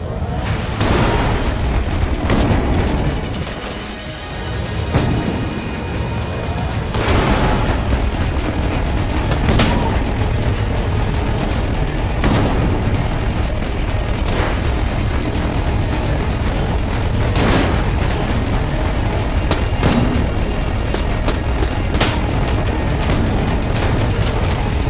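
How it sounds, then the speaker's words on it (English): Continuous game combat from Enter the Gungeon during a boss fight with the disintegration beam weapon firing: a dense, loud, sustained roar with repeated booming blasts and bursts layered throughout, no talking. "And I'm gonna use this, the disintegration beam."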